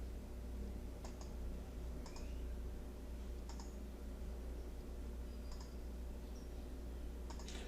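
Mouse clicks advance slides in a LaTeX Beamer presentation: a handful of sharp, sparse clicks spaced a second or two apart over a steady low electrical hum, with no talking.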